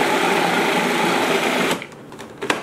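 A kitchen blender whirs loudly and steadily, mixing a spiced tofu pâté until evenly combined, then cuts off abruptly partway through, leaving a few faint knocks and scrapes.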